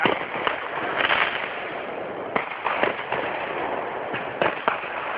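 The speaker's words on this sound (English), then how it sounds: "They were popping off like millions of fireworks just everywhere." Fireworks go off everywhere in a steady, distant crackle, with sharper scattered pops rising above the dense background and no voices.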